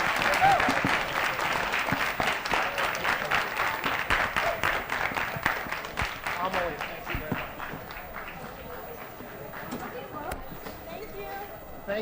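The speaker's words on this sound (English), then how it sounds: "Let's give our speaker a round of applause." An audience in a theater gives a round of applause for a speaker at a STEAM event, with steady clapping that is loud at first and slowly thins toward the end, under some talk.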